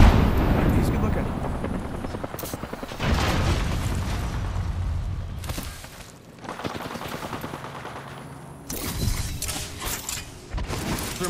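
A grenade thrown and bursting during a team deathmatch in Apex Legends, heard amid heavy gunfire and booming blasts, loud and close, with several sharp bursts and a fainter voice underneath.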